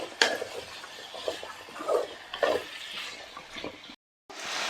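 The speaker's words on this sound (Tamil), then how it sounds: "இது எல்லாமே நல்லா கிளறி விட்டுக்கலாம்." A spoon scrapes and clinks around a pot of sambar vegetables, with soft irregular stirring strokes and a few sharper knocks against the metal, close and moderately loud.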